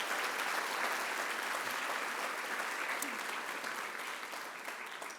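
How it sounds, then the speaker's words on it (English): A room of guests at an award luncheon applauds, steady dense clapping from many hands that holds level and then tapers slightly at the end, heard without speech. "Can we give a round of applause to each and every one of you who are a part of that?"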